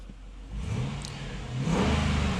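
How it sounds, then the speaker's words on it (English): A Hemi V8 in a 2013 car revs up in a rising mid-pitched drone, close and fairly quiet, swelling louder toward the end with no talking. "sound like a Hemi engine"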